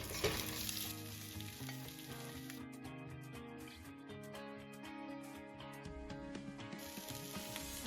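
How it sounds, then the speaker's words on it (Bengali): Fried cauliflower and potato pieces hit a hot pan for egg curry, with a loud, steady sizzle and crackle and some stirring clatter throughout. "এখন আমি ভেজে রাখা ফুলকপি আলুগুলি দিয়ে দিচ্ছি।"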